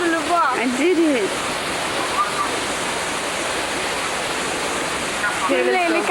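Waterfall cascades near Nice on the Côte d'Azur pour out a steady broadband rush of water, with voices speaking over it at the start and end.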